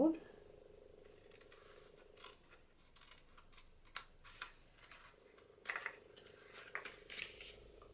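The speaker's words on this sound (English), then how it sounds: "cut that off, cut up that fold" Scissors cutting paper cardstock for a Christmas cascade card, a series of quiet, close snips and scrapes in irregular bursts, with faint talk in the background.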